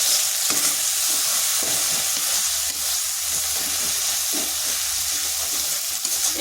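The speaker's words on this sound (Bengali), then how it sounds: "এরপর মশলাটা একটু কষে নিচ্ছি।" Ground coriander, cumin and chilli powder fry with tomatoes in a pan, a loud, continuous hissing sizzle with the soft, repeated shuffle of stirring underneath, heard close and without any voices.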